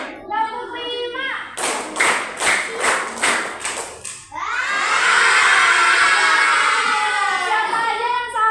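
Schoolchildren in a classroom clap a counted rhythm game, five or six sharp, evenly spaced claps under chanted counting, followed by a burst of loud shouting and chatter from the class.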